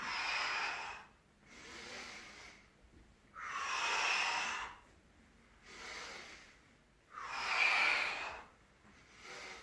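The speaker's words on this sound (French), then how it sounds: "Je suis obligé d'utiliser un peu de respiration explosive." Forceful breathing during sit-ups: three long, loud hissing exhalations forced out through the mouth, evenly spaced and separated by quieter intakes of breath, close and without talking.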